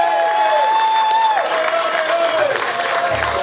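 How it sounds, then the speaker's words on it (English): Audience applause and cheering from a crowd at a live outdoor performance event in Plymouth's Royal William Yard, steady clapping throughout with a whistle-like tone audible over the crowd. "Round of applause for Ollie, everyone!"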